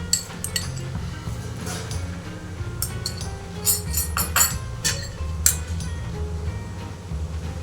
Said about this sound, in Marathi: आता यामध्ये सगळ्यात आधी दाणे आणि डाळ्या घालून घेऊ